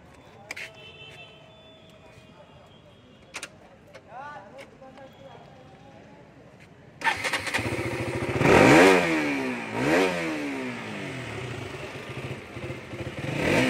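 A used KTM Duke motorcycle in like-new condition starts up close by after a quiet stretch and is revved repeatedly, its engine note rising and falling in loud sweeping pulls before settling.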